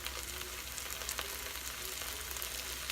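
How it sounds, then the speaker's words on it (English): Tomato paste cooking in an Instant Pot gives a faint, steady sizzle with a few soft stirring scrapes, low and continuous throughout. "I like to cook that tomato paste a little bit."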